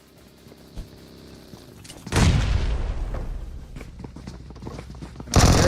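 A grenade explodes in a competitive shooter match, a sudden loud blast after a quieter moment with a faint thud, its rumble and scattered debris lingering for several seconds before another heavy boom at the end.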